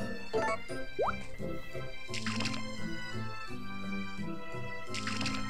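Watering crops in the farming video game Harvest Moon: A New Beginning: repeated splashy, plopping water sound effects in short bursts over a steady background music track.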